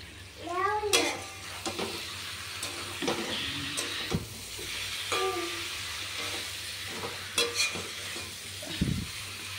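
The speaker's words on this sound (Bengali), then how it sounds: "এই আলু ফুলকপিটা ভেজে রেখেছিলাম, তেলগুলো সব লেগে আছে, দিয়ে দেবো এর মধ্যে" Oil-coated fried potato and cauliflower tipped into a hot pan for a cauliflower fish curry, giving a sizzle with repeated utensil scrapes and clinks, plus running water and people talking in the background.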